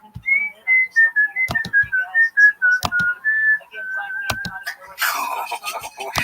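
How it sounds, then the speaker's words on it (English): A person whistles a slow, wavering melody of sustained notes, punctuated by a few sharp knocks, ending in a burst of noise. "It's a haunting whistle."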